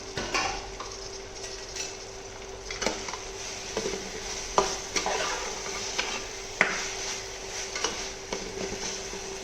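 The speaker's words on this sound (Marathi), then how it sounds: "आता याच्यामध्ये आपण टोमॅटो घालायचा आहे, टोमॅटो देखील थोडा नरम होऊन द्यायचा आहे।" Tomatoes stirred and sautéed in a frying pan, with scattered spoon scrapes and light clinks against the pan over a faint, steady hiss, no talking.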